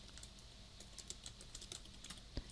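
Code is typed on a computer keyboard in quick, irregular bursts of soft, close key clicks with one sharper tap near the end, and no voices.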